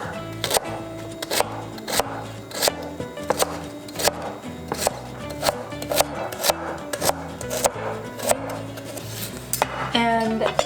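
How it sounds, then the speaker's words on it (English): A knife chops vegetables into very small pieces on a cutting board while making homemade dog food, with rapid, fairly regular close knocks of the blade that continue through the whole stretch. "Cutting these into very small pieces so that it's not a choking hazard."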